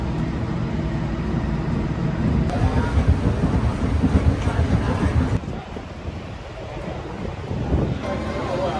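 Riding the Bangkok Gold Line train: a continuous rumbling, rushing interior roar with wind-like noise, swelling slightly midway before a brief dip and a steady return.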